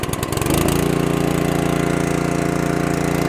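A BAR 28 ton log splitter's small petrol engine starts up with a brief cough, then settles into a steady, loud, close-up idle with an even rhythmic thrum.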